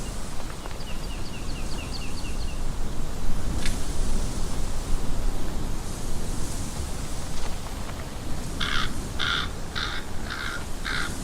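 Crows caw in a Dragon's Dogma 2 game ambience: a faint run of calls early on, then a louder series of five harsh caws near the end, all over a steady noisy wind-like bed.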